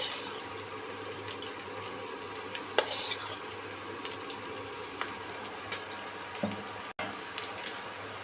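Rice being stirred into pulao in a pot, with soft scraping and a few sharper spoon clinks against the metal over a quiet background hum, including one brief louder scrape near the start.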